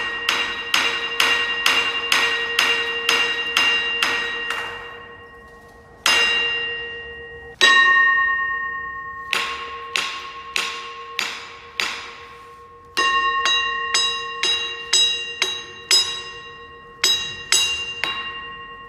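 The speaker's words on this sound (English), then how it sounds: "There's a massive bell on the wall up here." A massive old wall-mounted bell in an abandoned art school is struck repeatedly, giving loud metallic clangs in quick runs with bright ringing tones that decay between strikes, ending in uneven bursts.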